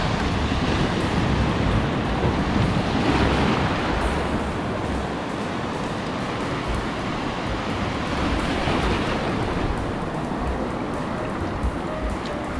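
Steady roar of surf at La Jolla with broad washing swells rising and falling, loud and continuous, wind noise over the top, heard during a boat surf launch.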